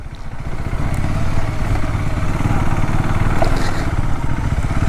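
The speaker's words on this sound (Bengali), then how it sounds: "আর তার মধ্যে আমরা 3-4 কিলোমিটার এমনি বাইক নিয়ে যাব" A motorcycle rides along a rain-damaged, muddy off-road track on a monsoon trip through Odisha near Simlipal, its engine chugging loud and close with steady revs and rattling over rough ground, no talk.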